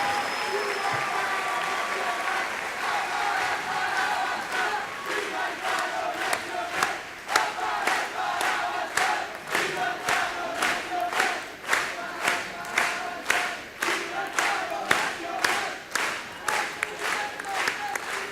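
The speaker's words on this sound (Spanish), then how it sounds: "No hace falta pedir el aplauso." Conference audience applause, dense and steady at first, then breaking into rhythmic unison clapping for the rest, with crowd cheers mixed in; no talk over it.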